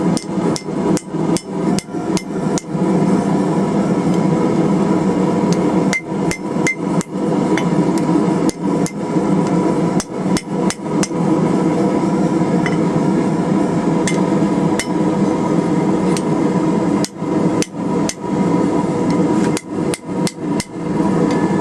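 A hammer forges a steel wrench on an anvil in a long run of rapid, loud metallic blows, grouped in bursts with brief pauses between them, close and clear over a constant shop hum.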